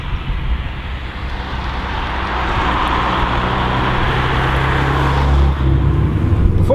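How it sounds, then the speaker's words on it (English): A VW Golf GTi Mk3 with a 2-litre 8-valve, 115 bhp engine and 5-speed gearbox drives along, its engine droning steadily and swelling louder as it pulls, then easing off near the end. "under the hood, the 2-litre 8 valve, 115 brake horsepower engine, which is connected to a 5-speed gearbox."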